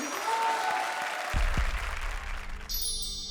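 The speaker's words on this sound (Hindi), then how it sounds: "जोरदार तालियां राजीव और सलोनी के लिए।" Studio audience applause on a televised comedy show, dense clapping near the mic with a low thump and a brief musical sting toward the end.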